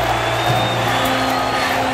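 A large crowd cheers in a steady, continuous roar at a moderate distance, with no clear pauses, in a scene set around the fall of Rome.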